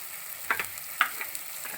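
A spoon stirs ripe mango curry with asafoetida in a pan, making a few brief close scrapes and soft clinks over a faint simmer.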